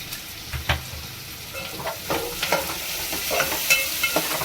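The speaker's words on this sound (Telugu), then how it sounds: "ఇప్పుడు ఈ గోల్డెన్ బ్రౌన్ వచ్చే వరకు ఫ్రై చేస్తాం" Onions fry in a pan toward golden brown, a constant hissing sizzle broken by frequent stirring scrapes and clacks of a spatula, all close and without speech.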